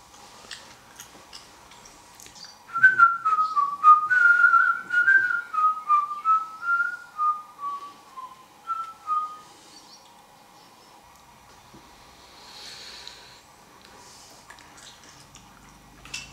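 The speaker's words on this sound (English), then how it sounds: "Try humming or whistling a happy tune" A person whistles a happy tune alone, a bright sequence of short melodic notes that starts a few seconds in, carries on for about seven seconds, then fades out to near silence.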